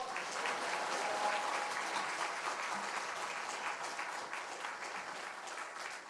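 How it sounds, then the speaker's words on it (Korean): A church congregation at a Wednesday service applauds to welcome the pastor, a continuous, fairly soft wash of many people clapping that holds steady throughout. "이 시간 목사님 나오실 때 우리 박수로 할렐루야로 박수하면서 목사님 맞도록 하겠습니다"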